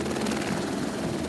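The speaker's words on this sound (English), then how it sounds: "There was even a helicopter." Helicopter at a Touch a Truck event among emergency vehicles: steady, close rotor thumping and turbine whine, loud and continuous.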